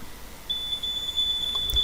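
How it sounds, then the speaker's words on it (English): A mask detection system sounds a warning beep, a steady high-pitched electronic tone that starts abruptly and holds continuously against a faint background hum. "you can hear the beep sound as a warning"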